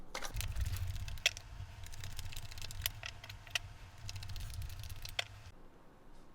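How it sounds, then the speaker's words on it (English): Cards are shuffled with crisp, rapid riffling and flicking clicks over a low hum, fading out near the end. "let's shuffle this deck and get started."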